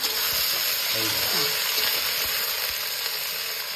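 Chopped onion, capsicum and green chilli fry in hot oil with a loud, continuous close-up sizzle, broken by a few faint utensil knocks as they are stirred.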